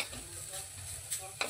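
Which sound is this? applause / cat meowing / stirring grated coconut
stirring grated coconut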